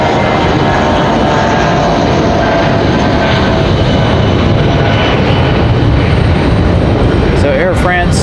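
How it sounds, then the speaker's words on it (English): An Air France widebody jet with GE90 engines taxis to the gate at Raleigh-Durham airport, a loud, continuous engine roar and rumble close by, with a voice talking over it. "into the gate. Those big GE90s."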